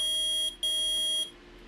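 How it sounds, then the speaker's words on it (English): A metal detector in the Phoenix Wright: Ace Attorney video game lets out a loud, piercing electronic tone, two sustained beeps split by a short gap, then cuts off. "Nick, it's beeping! The metal detector's found something!"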